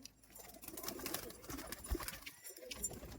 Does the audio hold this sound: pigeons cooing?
yes